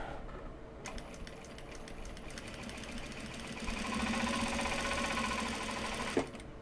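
Sewing machine running a long basting stitch through denim, a steady close mechanical whir with rhythmic needle chatter that speeds up midway before stopping abruptly near the end.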